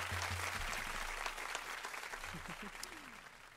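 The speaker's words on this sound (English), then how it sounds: "Big round of applause for Sandy Navarro, everyone." Audience applause fills a cosplay stage show with steady, dense clapping, and a few faint voices mix in underneath.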